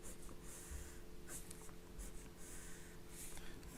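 A colouring pencil shades across paper in repeated short strokes in one direction, a soft, close scratching that rises and fades in an even rhythm, faint but clear over quiet background hum.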